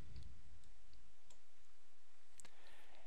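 A few faint, crisp mouse clicks in quiet surroundings as the Populate button is pressed in inspection software, with soft ticks spread across a couple of seconds.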